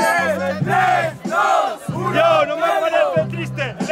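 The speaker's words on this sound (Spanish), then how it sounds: "¡Fuerte aplauso!" A crowd at a breakdance battle at the Montjuic Supercup erupts in loud, rhythmic chanting and cheering, with repeated bursts of shouting that rise and fall close by.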